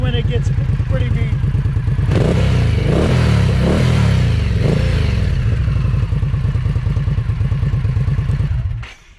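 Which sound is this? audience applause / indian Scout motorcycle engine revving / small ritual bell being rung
indian Scout motorcycle engine revving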